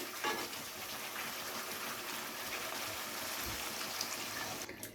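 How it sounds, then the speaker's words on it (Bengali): Water poured into a pan of fried potatoes and pointed gourd for a vegetarian korma gravy, a steady close gushing pour that runs for several seconds with no voices. "তো এবারে আমি এখানে দিয়ে দেবো গ্রেভির জন্য জল।"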